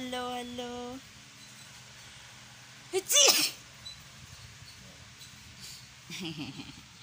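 A single sharp sneeze bursts out near the middle, with brief vocal sounds before and after against a quiet background.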